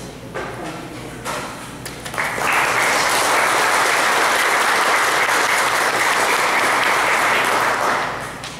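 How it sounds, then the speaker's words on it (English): Audience applause at a school event honoring supportive parents, starting with a few scattered claps that swell into a loud, steady ovation filling the room and then easing slightly at the end. "we applaud every parent that supports the kids"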